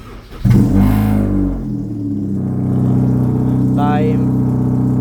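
A 2006 Honda Civic engine warms up at idle, a steady low rumble that starts abruptly and holds throughout, with a brief chirping tone partway through.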